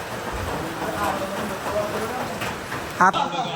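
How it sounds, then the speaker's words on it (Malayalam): Steady rain hisses continuously at close range, with a few sharp clicks near the end. "മഴ പെട്ടു"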